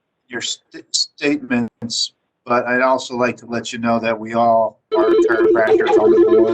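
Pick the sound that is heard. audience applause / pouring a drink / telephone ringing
telephone ringing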